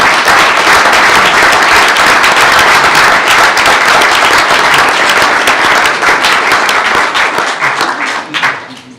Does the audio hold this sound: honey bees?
no